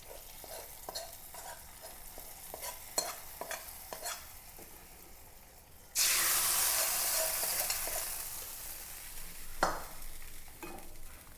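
Hot tempering hits Angamaly-style mango curry after a few light stirring clinks. A loud, sudden sizzle erupts and then hisses steadily, slowly fading as it keeps crackling close by.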